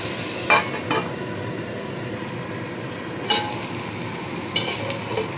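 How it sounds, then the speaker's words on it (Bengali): Tomatoes and onions frying in a pan while being stirred, with a continuous close sizzle broken by several sharp scrapes of the spoon against the pan. "এবার ভালো করে নাড়তে থাকবো যতক্ষণ না টমেটোগুলো গলে আসে আর পেঁয়াজটাও একটু সেদ্ধ হয়ে যায়"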